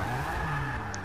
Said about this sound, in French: Avec un petit dérapage en arrivée